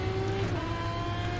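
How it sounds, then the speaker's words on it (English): A Ferrari GT1 race car roars through the Automobilista racing simulator on the Imola circuit, its engine holding a loud, steady, high-revving drone for the whole stretch with no voices. "Engine sounds good, performance is good."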